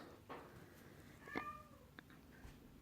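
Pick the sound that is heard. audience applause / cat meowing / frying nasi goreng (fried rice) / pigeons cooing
cat meowing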